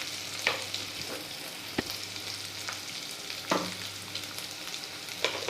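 Masoor dal stirred in a frying pan with cumin powder: a soft continuous sizzle with occasional sharp scrapes and clinks of a spoon against the pan, fairly quiet and close, no voices.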